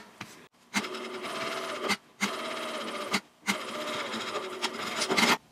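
A sewing machine backstitches along the seam of a minimalist ID wallet, running in three sustained bursts of rapid mechanical whirring separated by brief pauses, loud and close with no talk.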